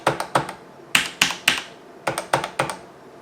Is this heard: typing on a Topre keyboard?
yes